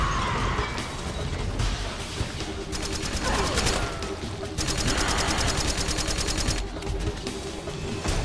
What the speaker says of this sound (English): Okay, now she's shooting.